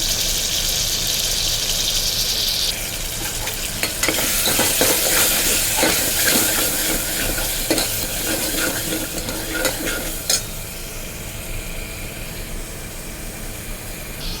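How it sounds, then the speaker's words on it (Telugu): Chili powder fries in oil in a pan for a field bean curry. A loud, steady sizzle fills the sound, broken by scraping stirs of a spoon against the pan, with no voices. "ఇలా బాగా వేగాక ఇందులో కారం అయితే వేసుకొని పచ్చివాసన పోయేంత వరకు వేయించుకోవాలండి"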